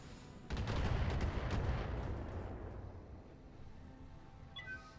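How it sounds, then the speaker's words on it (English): A missile barrage in BattleTech erupts as a loud roaring salvo of rapid blasts, swelling suddenly and then slowly trailing off into rumbling decay, with brief electronic tones near the end. "We're gonna have 20 minutes of missile spam"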